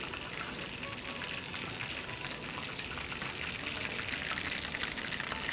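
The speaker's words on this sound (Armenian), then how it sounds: "Չորս կողմից տապակենք։ Տապակեցինք բոլոր կողմերը։" Lemon-marinated chicken drumsticks frying in a pan, a close, steady crackling sizzle with dense spattering that continues without pause and without talk.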